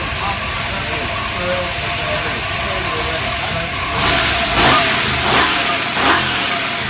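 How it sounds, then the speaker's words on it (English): A 408 Cleveland V8 in a Ford XE Falcon S-Pak runs on a dyno. A loud, sustained drone gives way near the end to several sharp rising revs, heard up close. "Man, that's one snappy and responsive motor."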